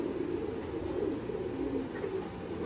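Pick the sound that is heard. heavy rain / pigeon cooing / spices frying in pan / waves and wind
pigeon cooing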